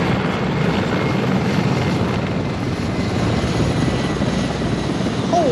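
A helicopter in a shooter video game draws near, its rotor and engine a loud, steady, broadband roar that fills the scene without a break.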